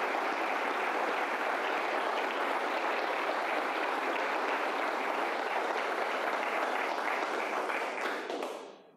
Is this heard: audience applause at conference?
yes